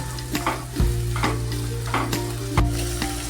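Mixed vegetables for a vegetarian dish made without onion or garlic sizzle steadily in a kadai, with repeated scraping stirs and a couple of heavier knocks of the spatula against the pan, close and with no voices.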